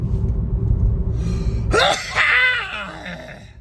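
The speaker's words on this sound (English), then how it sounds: "I gotta sneeze." A single sharp sneeze bursts out close up after a steady low rumble, followed by a brief breathy trailing exhale.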